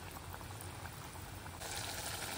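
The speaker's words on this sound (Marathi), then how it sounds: "चला त्यांना मोकळं असं फ्राय होऊ देऊया आपण।" Sabudana fries for a fasting recipe deep-fry in oil with a soft, even, continuous bubbling sizzle that stays constant throughout, without speech.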